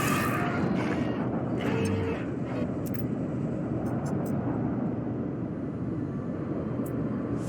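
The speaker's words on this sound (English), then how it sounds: "Plane." A steady, loud roar of an aircraft engine in No Man's Sky, a broad continuous drone holding at an even level with faint, brief higher clicks scattered over it.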